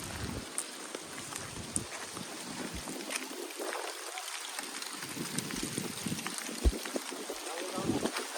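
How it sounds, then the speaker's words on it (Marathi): Strong wind gusting outdoors during a storm, a rushing, broadband roar buffeting the microphone, with occasional bumps and faint voices in the background. "किती हवा सुटलेले"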